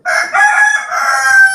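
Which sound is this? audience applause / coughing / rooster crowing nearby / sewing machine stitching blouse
rooster crowing nearby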